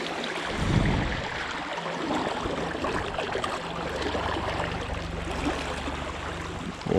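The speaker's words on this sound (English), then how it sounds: "The water is moving incredibly fast." Fast river water rushes steadily past an old mine town, a continuous broad wash with a low churning undertone and no voices.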